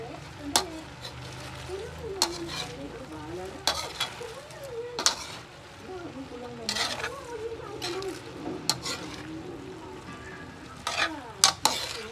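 Bell pepper, cabbage and other vegetables for pancit sizzle and are stirred in a pan, with repeated scraping clatters of a utensil and a person talking over the frying.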